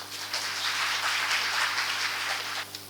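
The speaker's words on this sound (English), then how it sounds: "Once more, give them a huge round of applause." Audience applause at a school health and wellness event, dense sustained clapping from a large crowd, loud and even throughout, tapering slightly at the end.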